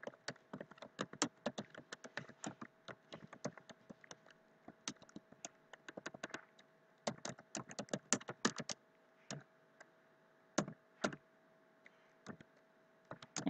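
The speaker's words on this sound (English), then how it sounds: "So I'll go ahead and type that in." Keys on a computer keyboard click in quick irregular bursts, light and close, with short pauses between runs of typing in a quiet room.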